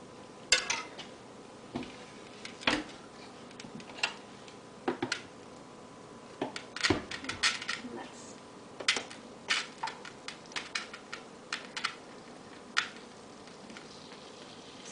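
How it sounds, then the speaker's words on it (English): Gravy whisk clinking and scraping through fat and flour in a metal roasting pan for turkey gravy, a steady series of quick metallic taps and stirring scrapes, close and moderately loud with no talking. "I'm going to use what's called a gravy whisk and just mix it up"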